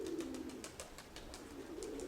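Pigeons coo in a steady low murmur, close and continuous, with soft repeated wingbeat-like pulses or rustles over it and no voices.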